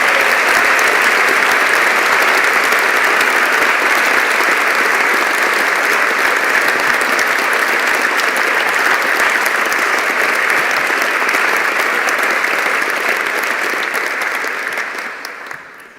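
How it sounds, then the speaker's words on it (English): A large crowd at a university graduation ceremony applauds steadily and loudly for about fifteen seconds before the clapping fades away at the end. "how about another round of applause for our newest RVC graduates?"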